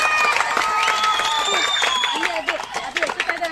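Applause and cheering from a crowd at a government school festival, a dense burst of clapping and shouting that fades toward the end, with speech mixed in.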